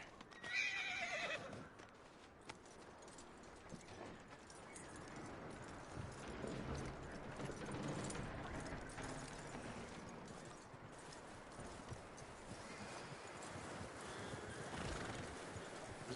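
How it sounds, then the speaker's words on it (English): In Red Dead Redemption 2, a horse gives a short, loud whinny and snort, followed by steady hooves clip-clopping for a long stretch, moderately close, with no talk over it. "That looks like a decent horse."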